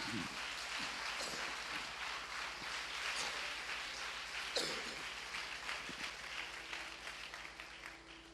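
A church congregation at a Tamil Sunday service claps together in steady, dense applause that fills the whole stretch, fairly distant and even, with no talk over it.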